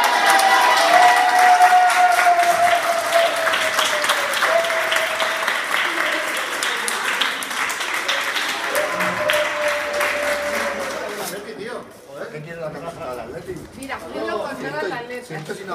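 Group applause at a farewell gathering, dense clapping from many hands mixed with loud overlapping talk and cheers, fading out around the eleventh second and leaving scattered voices and chatter.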